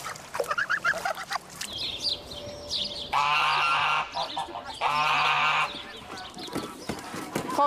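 Young geese about six weeks old honk loudly in bursts, two long strident calls standing out over a background of softer gabbling and a low hum.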